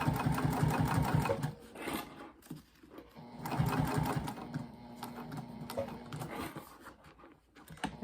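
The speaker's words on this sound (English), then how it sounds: "I'm going to skip right over that really thick seam and continue sewing." A sewing machine stitches fabric for a retreat bag, passing over a thick seam with loud, rapid, rhythmic whirring in two long bursts separated by a brief pause.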